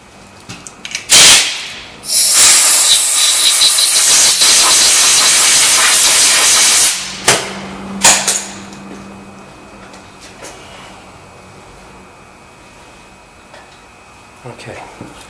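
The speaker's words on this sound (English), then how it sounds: "you're going to shoot that out with some air" Compressed air blasts metal filings out of a TPMS tire valve stem, a loud broadband hiss in short bursts and then one long sustained blow of about five seconds, followed by brief puffs and quieter handling noise.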